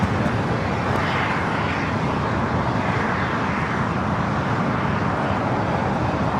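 A CRJ 200 regional jet departing LAX for St. George, Utah gives off a constant, loud, close engine roar that fills the whole stretch without letup.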